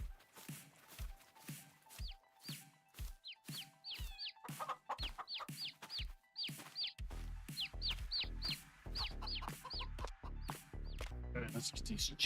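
Chickens in Farming Simulator 22 cluck in a busy run of short, sharp calls, close and lively, with footsteps-like thumps and background noise building toward the end.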